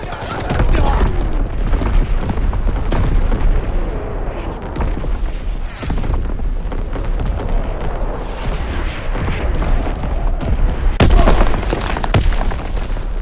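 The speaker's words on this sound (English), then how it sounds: "Incoming enemy artillery. Get to cover." Enemy artillery explosions in Call of Duty: WWII, a dense, continuous barrage of deep booms and rumbling blasts, loud and close, with voices speaking over the bombardment.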